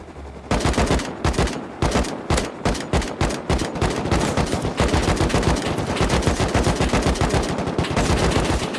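Rapid automatic gunfire in the survival game Rust, fired in long, dense bursts of sharp shots that are loud and close, running almost without a break.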